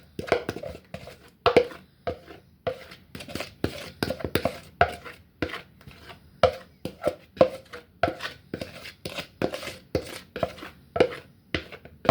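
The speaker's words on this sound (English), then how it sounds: "And then we gonna put our wet ingredients in. Stir that on in." Wet ingredients for funfetti cupcakes being stirred into batter in a bowl, a rhythmic series of close, sharp knocks and scrapes repeating every half second or so, with no talking.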